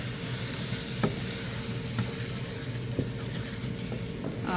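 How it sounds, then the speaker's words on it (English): A pan deglazed with a milk and water mixture while making vegan hamburger helper sizzles steadily, with a few soft knocks of a utensil stirring roughly once a second, no talk. "take the milk and water mixture you have and just add some in here to help deglaze that pan"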